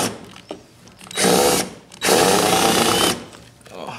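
A power drill driving into boards in a workshop, running in two loud sustained bursts of high-pitched whirring separated by short pauses, close up.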